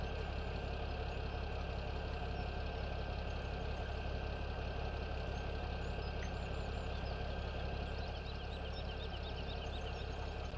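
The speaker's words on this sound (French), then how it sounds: "Démarrage automatique. On va laisser le moteur tourner." A tractor engine idles steadily in Farming Simulator 17, a low, even mechanical hum with a faint rhythmic knock that runs unbroken at moderate volume, with no talking.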